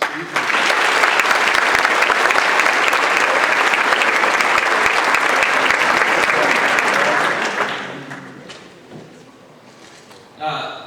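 An audience at a medical school white coat ceremony applauds to welcome a speaker, loud sustained clapping from a large crowd that fades out, followed by a brief sound near the end.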